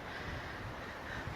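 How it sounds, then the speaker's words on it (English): Strong wind gusting near hurricane force on a windy day in Las Vegas gives a steady, loud roar with rumbling buffeting on the microphone, and no voices are heard. "I haven't seen wind like this in years."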